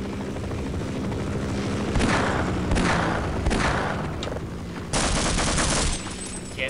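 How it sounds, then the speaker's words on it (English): 357 Magnum revolver fire in Half-Life, several loud sharp reports spaced a second or so apart, ringing through a dense, constant mechanical roar like a helicopter's rotor and engine. "I'll blow my freaking 57 Magnum ammo to do some damage to it"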